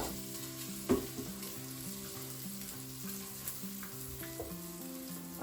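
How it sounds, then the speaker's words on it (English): Bacon sizzling in the bowl of a pressure cooker, a steady close crackle with popping spatters and an occasional scrape, under a faint low electronic hum. "once you're satisfied the bacon's cooked to your liking"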